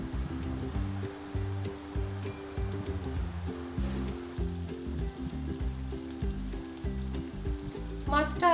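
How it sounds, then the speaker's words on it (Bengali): Hilsa fish wrapped in banana leaf fries in an uncovered pan with a steady, gentle sizzle and crackle over a low background hum. A brief voice comes in at the very end. "মাছটা আস্তে আস্তে ভাজা হচ্ছে"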